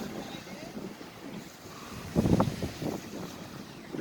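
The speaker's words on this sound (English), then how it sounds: "pretty windy." Wind gusting over a creek where kayakers paddle, a steady low rushing roar with a stronger blustery burst midway, close to the microphone and with no talk.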